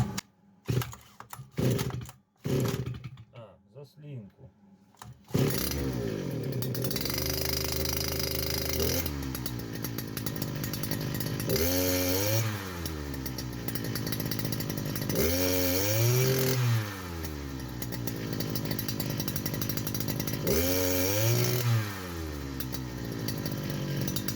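A STIHL FS120 petrol brushcutter gives several rough pull-start rattles, then the two-stroke engine catches and runs close and loud. It idles with repeated rising and falling throttle revs and no talking.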